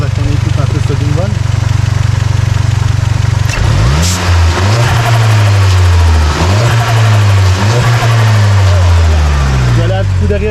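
Audi S1 ABT with a 310 hp four-cylinder TFSI engine, idling loudly up close before several sharp revs that rise and fall in pitch, with a voice talking over it.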